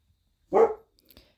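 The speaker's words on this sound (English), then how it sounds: "decided to bark at the deer" A single sharp dog bark, close and loud, followed by faint small noises and quiet.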